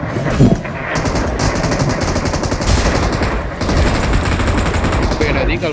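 Rapid, continuous gunfire fills the whole stretch, a dense, loud barrage of overlapping shots that sounds like automatic fire, with no pause and no clear speech over it.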